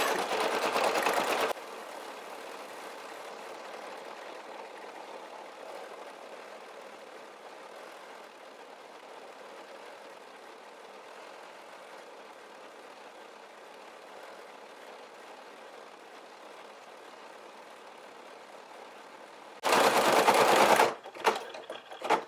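A Brother SE1900 embroidery machine stitching an Easter basket design, a steady, fast mechanical whir that holds evenly for about eighteen seconds between louder, brief handling noises at the start and end.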